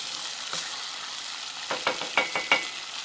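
Rice kernels stirred through frying sausage and oil in a pan: a steady soft sizzle with a cluster of scraping spoon strokes near the end, close and fairly quiet, no talking.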